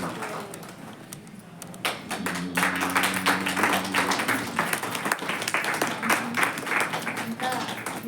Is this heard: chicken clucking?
no